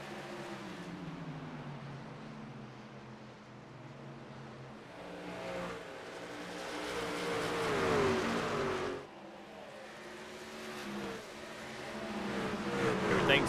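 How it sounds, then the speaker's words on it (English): Race trucks lap Iowa Speedway, their engines droning and rising as they pass and accelerate through the turns, with commentary audible over the engine noise. "Garrett Kinder actually has to lift just a little bit as that truck's getting tight in the middle of 3 and 4"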